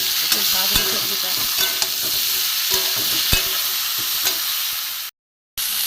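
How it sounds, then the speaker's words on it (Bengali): Papaya, potato and drumstick pieces fry in a pan for a jukto phool chorchori, with a loud continuous sizzle broken by sharp spatula scrapes and clinks at irregular intervals. The sound cuts out abruptly near the end. "আলু, ডাঁটা, একটু ভাজবো সবজিটা।"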